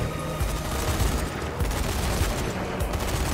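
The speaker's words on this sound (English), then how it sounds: "I'm under fire!" Rapid fusillade of gunfire in the zombie shooter game Zombie Army 4: Dead War, with close, continuous shots and low thumps overlapping across the short stretch.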